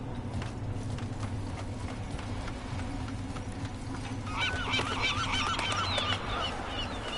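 Game birds honk repeatedly in Deus Ex: Mankind Divided, several goose-like calls overlapping in a busy cluster over a steady low ambient hum, growing louder and denser in the last few seconds.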